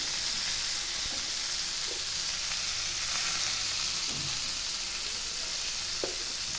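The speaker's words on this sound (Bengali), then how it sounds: "মাছগুলোকে হালকা করে ভেজে হবে, বেশি ভাজলে কিন্তু শক্ত হয়ে যেতে পারে।" Large giant freshwater prawns frying in a pan give off a steady, dense sizzle with a few soft scrapes and bubbling pops, continuous and close with no talking.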